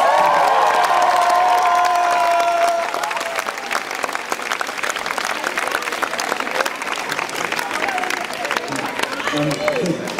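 A large concert crowd in Berlin's Columbiahalle applauds and cheers loudly, dense clapping with whoops that slowly settles into sustained applause, with a voice heard over it at the start.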